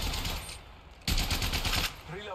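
A Havoc energy rifle fitted with a turbocharger fires in Apex Legends Mobile, two dense, loud bursts of rapid gunfire split by a short pause, with a voice talking in the background.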